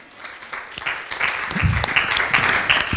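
A church congregation claps hands together during a laying-on-of-hands service, a dense, steady wave of applause that swells and stays loud for the whole stretch.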